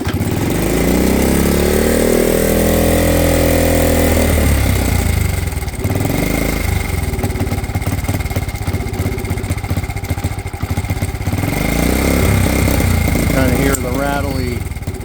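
A vintage Honda CT70 trail bike engine cranks and fires up on full choke, then settles into a loud, steady, slightly rattly single-cylinder idle close by.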